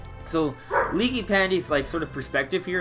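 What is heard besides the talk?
dog barking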